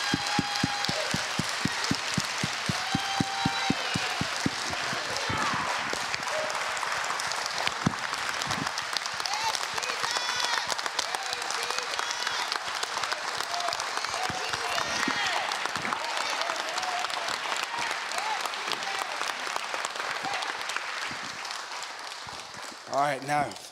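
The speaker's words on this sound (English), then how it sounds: "I think the Lord deserves another clap offering" A church congregation gives a sustained clap offering, with dense, loud, continuous applause from a crowd and some voices mixed in, slowly fading toward the end.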